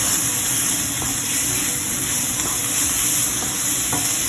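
Onions sizzling loudly in a pan as ginger garlic paste is stirred in for a North Indian chicken curry, a constant close frying hiss with occasional soft scrapes of the spoon.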